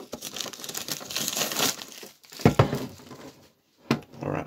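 Plastic wrap crinkles and tears loudly as it is pulled off a Pokémon card tin, in close bursts of crumpling that stop briefly before a final crackle.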